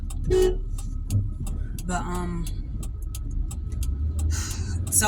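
Car interior while driving: a low engine and road rumble runs steadily, with a few short horn toots and clicks over it and a person talking.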